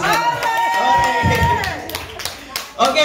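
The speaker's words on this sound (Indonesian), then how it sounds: "Tepuk tangan." Teachers clapping during a school training session, a short round of claps and cheers under loud talk, with voices dominating and the claps punctuating the end.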